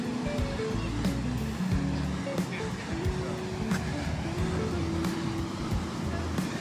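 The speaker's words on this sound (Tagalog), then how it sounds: "Ito yung access sa dagat." Sea waves wash steadily onto the beach at Baler, a constant broad roar of surf close by, with someone speaking over it.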